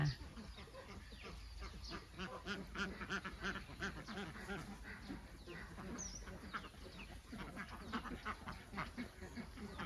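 Khaki Campbell ducks quack repeatedly in a noisy group in a pen, their calls overlapping against steady background noise at moderate distance.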